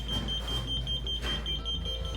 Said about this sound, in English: as it gets out of alignment, the beeping rate increases